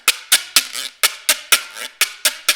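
A güiro is scraped in a quick, even rhythm of about ten sharp rasping strokes, each a bright close-up scrape followed by a shorter return stroke, heard alone.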